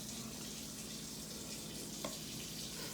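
A baking soda and paint mixture fizzes and bubbles softly in a tray, giving a steady, faint, hissing crackle with one small pop near the end.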